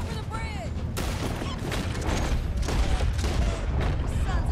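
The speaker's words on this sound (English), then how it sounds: "Oh, explosions." Explosions and gunfire in Red Dead Redemption 2, loud booms and crackling blasts layered over one another, with a whistling streak near the start and a rumbling low end throughout.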